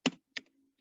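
Two crisp computer keyboard keystrokes while entering R code, spaced about a third of a second apart, close and clear in a quiet room with a faint trailing tap.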